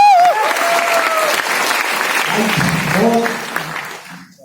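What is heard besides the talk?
audience applause at a seminar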